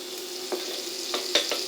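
Onions sweating in hot butter and oil in a saucepan, a gentle continuous sizzle broken by a few soft stirring scrapes, quiet and close.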